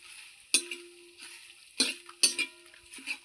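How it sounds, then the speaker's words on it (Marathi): Bay leaf and stone flower fry in a little oil, with quiet sizzling and three or four sharp, close stirring scrapes against the pan. "हे दोन्ही पण आपल्याला तेलामध्ये थोडंसं असं तळून घ्यायचं आहे"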